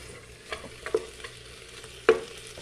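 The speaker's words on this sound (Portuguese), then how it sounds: "Estou refogando as minhas carnes aqui, junto do charque também." Meats and charque for feijoada browning in a pot without oil, a quiet crackling sizzle under a handful of distinct knocks and scrapes from stirring, the loudest clank near the end.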